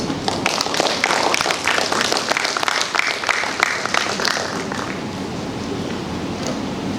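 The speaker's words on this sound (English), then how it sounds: "Let us give a round of applause to our officials" At a state-level impromptu speech competition for sixth-form students, the audience claps for the officials: brisk, loud applause that gradually softens and fades over several seconds.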